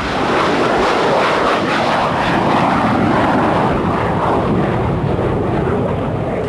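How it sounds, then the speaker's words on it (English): Loud, steady roar of a super jumbo passenger jet, a constant broadband rumble with no pauses, close and powerful. "super jumbo jets like this one will carry as many as 800 people"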